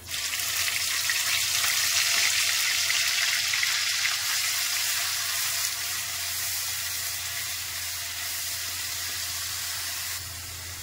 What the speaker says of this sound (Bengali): তো এখানে আমি পেঁয়াজটা ভালো করে ভেজে নেবো, হালকা কালারটা লালচে করে নেবো